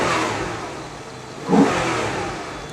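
A 2004 Maserati Cambiocorsa Spyder engine idles, then briefly revs up with a throaty roar through its air intake before settling back to a steady rumble; close by, no voices.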